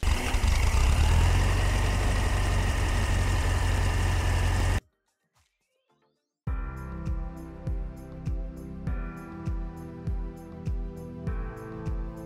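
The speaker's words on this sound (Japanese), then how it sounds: "空冷エンジンではシリンダーの振動と音はそのまま外に出てくるので、水冷とは違ったエンジンサウンドとなります。" An air-cooled engine runs loud and close, first as a dense steady roar, then after a brief silent gap it returns as a lumpy, pulsing idle with a regular, slightly uneven beat.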